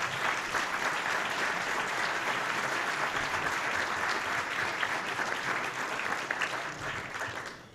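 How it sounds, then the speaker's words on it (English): Press-club luncheon audience applauding the panelists, a steady, dense round of clapping from a sizeable crowd at moderate distance, fading slightly at the close. "And now please give them your round of applause."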